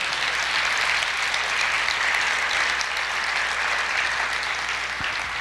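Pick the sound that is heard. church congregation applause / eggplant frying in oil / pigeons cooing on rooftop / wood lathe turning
church congregation applause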